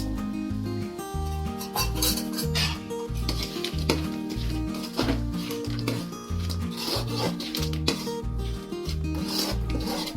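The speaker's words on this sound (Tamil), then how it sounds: "எல்லாத்தையும் ஆட் பண்ணிவிட்டு நல்லா மிக்ஸ் பண்ணோன்னா நூடுல்ஸ் ரெடி ஆகிடும்." Fried egg and chicken being mixed into noodles, with a steady, rhythmic scraping and rubbing of a utensil against the pan, continuous and close throughout.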